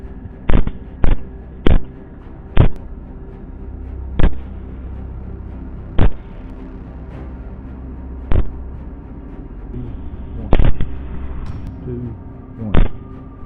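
Rifle shots fired from a helicopter at wild boar in dense woods ring out as about eleven sharp, loud cracks at irregular intervals over a steady low drone, with some voices in the background.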